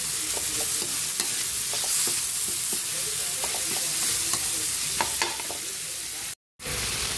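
Ground pork fries and sizzles in a hot pan with a constant bright hiss, while a utensil scrapes and taps as it is stirred in an irregular rhythm.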